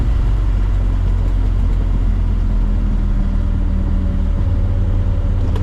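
A BMW E9 coupe fitted with the S38 engine from an E34 M5 is driven hard, its deep engine rumble loud and steady throughout, close-up with no talk.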